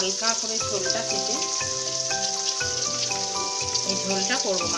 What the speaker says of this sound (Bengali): মাছটা দেখুন ভাজা হচ্ছে।